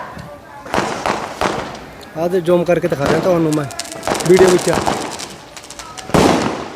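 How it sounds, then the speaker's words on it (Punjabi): Someone talks as several Diwali firecrackers pop off sharply in Punjab, a couple close together early on and another bang near the end. "ਦੇਖੋ ਇਸ ਤਰਫ ਚੱਲ ਰਹੇ ਨੇ ਪਟਾਕੇ"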